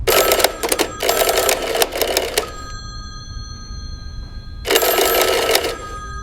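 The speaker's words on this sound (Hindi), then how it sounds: "एक फ़ोन की घंटी बजी।" An old-style telephone bell in the office of Pakistani High Commissioner Sohail Mahmood rings loudly in two long bursts separated by a pause, with a faint lingering tone in between.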